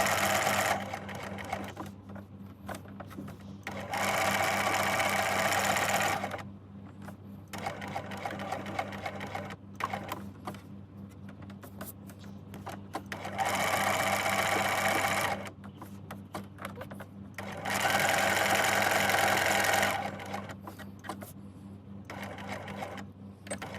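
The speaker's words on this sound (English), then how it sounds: "I'm just going to stitch all the way around it first, just because I want to create my little outline pocket or outline for it" Sewing machine running a straight stitch around the outline of a gift card holder, with rapid steady needle chatter in several bursts of a few seconds each, separated by quieter pauses, close and alone.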